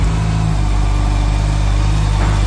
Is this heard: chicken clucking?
no